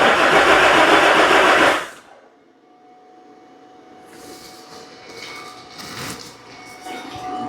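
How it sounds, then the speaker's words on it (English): A 2007 Nissan Frontier engine cranking on a cold no-start: a loud, steady starter churn for about two seconds that cuts off abruptly, followed by faint background rustling and low noise. "I'm just going to crank it for a couple of seconds."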